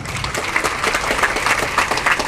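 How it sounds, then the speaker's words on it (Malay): Loud applause from a hall audience, a thick continuous roar of many hands clapping together, close and even across the short stretch with no speech over it. "satu tepuk tangan untuk Elkon"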